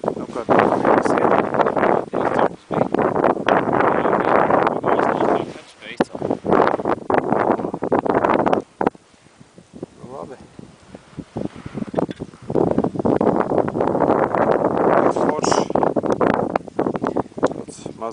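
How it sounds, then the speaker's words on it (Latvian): Light wind buffeting a microphone outdoors during winter fishing on Lake Peipus, heavy rumbling gusts that come and go in long bursts with a calmer gap midway, with a voice speaking at times. "Maziņš vējiņš."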